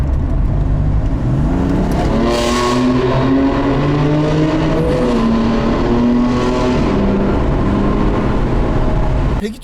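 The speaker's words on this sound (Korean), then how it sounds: "터널로 들어왔으니까 배기음을 한번 내볼게" A BMW M4 in a tunnel revs hard, its exhaust rising and falling through several pulls, with a booming, echoing roar that swells loud and close throughout.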